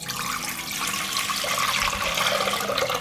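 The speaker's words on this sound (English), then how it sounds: "I pour 2 liters of water into the pot." Two liters of water poured into a pot, a steady, fairly loud splashing gush of liquid that runs continuously without pause and builds slightly as the pot fills.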